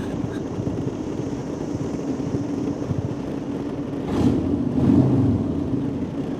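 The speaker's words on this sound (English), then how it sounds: "You got to throttle it through there." A vehicle engine drones steadily on a rough road, then swells louder as the throttle is pushed for a couple of seconds before easing back.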